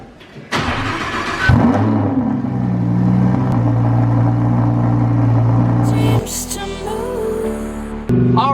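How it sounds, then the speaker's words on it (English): A Lamborghini cold-starts up close: starter churn, a sharp loud flare of revs, then a high, steady idle that drops in pitch partway through, with a few mechanical blips toward the end. "we got to do a cold start for the heck of it"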